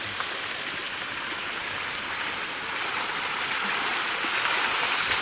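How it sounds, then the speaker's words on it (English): Steady rushing of fountain water cascading and splashing onto an old ship, a continuous broadband wash with no voices, fairly close and even in loudness. "Ooh, look, water cascading onto that old ship."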